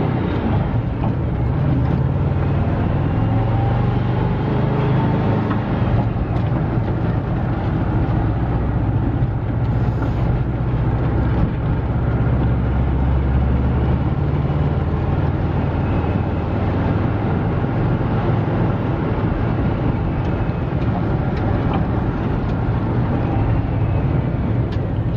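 A 1981 VW Vanagon Riviera camper van driving along with a steady engine and road rumble, smooth gear shifts blending into the continuous drone for a long stretch.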